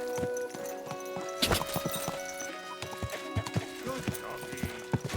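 Rhythmic hollow clip-clop of horse hooves in the game Kingdom Come: Deliverance II, close and distinct, over a steady tonal music bed, with a neigh-like burst early on.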